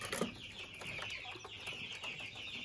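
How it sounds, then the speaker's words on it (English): Young Japanese quail chicks, freshly hatched and headed for a brooder, give faint high peeping chirps in quick repeated bursts, soft and close with low background murmur. "The Japanese quail."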